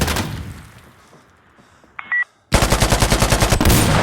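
Automatic machine gun fire in the shooter game Insurgency Sandstorm starts loud, drops into a near-silent pause broken by a brief electronic beep, then returns as a rapid, sustained string of rattling shots.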